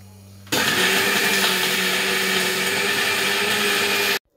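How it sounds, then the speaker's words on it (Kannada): A kitchen mixer grinder whirs into a loud, steady whine as it grinds coconut and chilli with a little water, running at full speed for several seconds after a brief quiet start, then cutting off abruptly. "ಆಮೇಲೆ ಅದಕ್ಕೆ ಸ್ವಲ್ಪ ನೀರು ಹಾಕಿ ಚೆಂದ ಮಿಕ್ಸಿಯಲ್ಲಿ ಗ್ರೈಂಡ್ ಮಾಡಬೇಕು"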